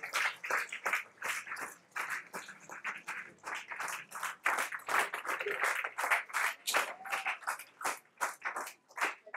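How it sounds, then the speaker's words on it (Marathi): Fairly quiet, scattered clapping from a small audience at a cycling talk session, a loose run of individual hand claps in uneven bursts rather than a full roar, heard alone. "जोरदार टाळ्या, जोरदार टाळ्या"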